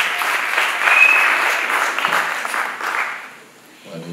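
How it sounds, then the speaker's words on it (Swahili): Congregation clapping at a church service, a burst of lively applause that fades out near the end, with a voice faintly audible beneath it. "Nipigie makofi kwa kufika"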